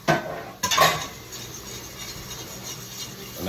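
Flour going into a pot to start a roux for crawfish stew, with a few sharp metal-on-pot clatters near the start, then a steady low scraping stir that continues quietly to the end.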